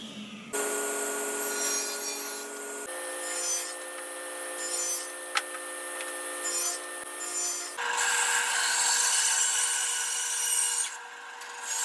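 Hand sawing a notch out of wood for a DIY flywheel trainer build, a steady close rasping scrape in long sustained strokes with brief shifts in pitch between passes.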